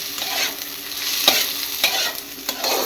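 Tomato and browned onion fry in a pan, a close crackling sizzle broken by a few sharp spatula scrapes and stirring clacks, loud and without speech.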